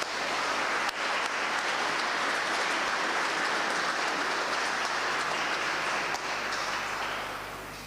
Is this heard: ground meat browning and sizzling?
no